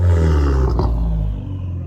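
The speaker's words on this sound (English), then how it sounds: "he'll give it a nice light rev" Fiat Abarth 500 engine at a car meet given one short, light throttle blip, a close, deep roaring rumble that swells briefly and settles back to a low idle.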